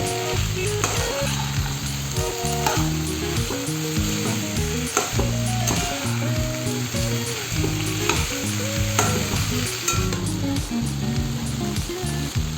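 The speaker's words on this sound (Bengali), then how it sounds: "এখন দিয়ে দিচ্ছি ভেন্ডি। ভেন্ডিগুলোকে দিয়ে অল্প 2-1 মিনিট নাড়াচাড়া করে" Okra added to already fried potatoes in a pan for a Bengali okra dish, sizzling steadily while a spatula stirs in repeated scraping strokes, close and alone with no talking.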